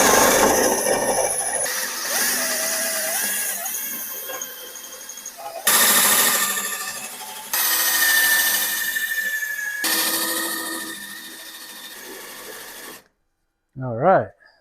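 Drill boring out spot welds on a Mazda car body during frame and rear quarter panel repair, a harsh whirring grind in several long bursts separated by brief pauses, loud and close, ending in a short squeal.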